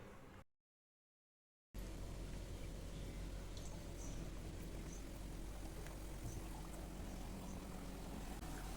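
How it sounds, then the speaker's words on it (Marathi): Wheat-flour sweet kapnya pieces frying in hot oil over a medium gas flame, a Maharashtrian Bendur dish, giving a steady, close crackling sizzle that runs without pause after a brief silent gap. "एकसारख्या कापण्या आहेत त्या मी आता तळून घेणार आहे"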